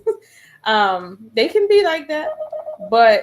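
A phone emits odd electronic tones that ring out in short harmonic bursts between stretches of someone talking, loud and close to the mic.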